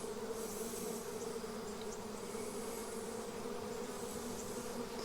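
A honey bee swarm buzzes around a hive in late July, a steady, dense, close drone that holds at an even level throughout with no voices.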